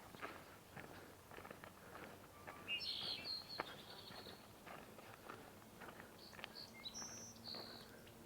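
Chickadees calling at a coastal provincial park, a few faint high chirps and short call bursts scattered over quiet background rustle and footsteps.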